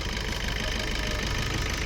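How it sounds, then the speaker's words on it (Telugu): A 1.3-litre diesel engine in a 2018/19 Maruti Baleno Delta car idles up close, a steady loud rumble with a faint knocking clatter and no talking. "డీజిల్ ఇంజన్ పర్ఫెక్ట్ ఉంది చూడొచ్చు"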